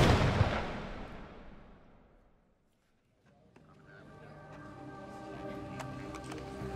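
A single loud pump-action shotgun blast fired in a home kitchen cracks sharply, then decays into near silence before a person starts talking.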